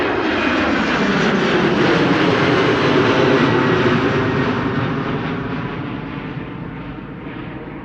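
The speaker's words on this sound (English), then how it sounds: "And the next departure, of course, over here. Embraer 190, German Airways," A German Airways Embraer 190 jet departs Schiphol, its engines roaring loud and close, then the sound slowly fades as it climbs away.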